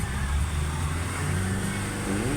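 A Nissan Navara with a check-engine fault and low power, its turbo, EGR and intake dirty, holds a steady loud engine drone near 3,000 RPM, with a faint voice underneath.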